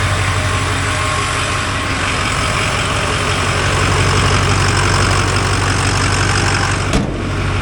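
Close and loud, a 2006 Ford F250 with a studded 6.0 Powerstroke diesel idles at a wrecking yard with a steady, rough rumble that holds throughout, broken by a brief knock near the end.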